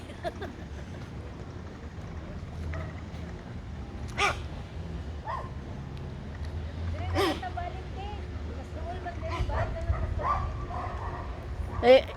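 A dog barks in short sharp bursts several times at moderate distance, over steady low outdoor rumble and occasional voices.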